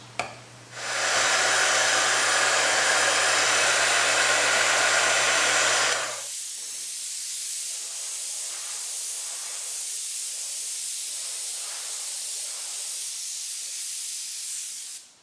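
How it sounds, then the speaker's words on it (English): An airbrush sprays Wicked Colors detail white paint onto an American flag design. A loud, close, steady hiss runs for about five seconds, then drops to a softer hiss that continues with faint pulsing bursts. No one speaks. "Now we're going to start spraying our Wicked Colors white."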